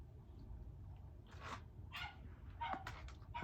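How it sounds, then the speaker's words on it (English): A dog barks several times in the distance, short faint bursts over a low background hum in an indoor room. "dog's barking in the background."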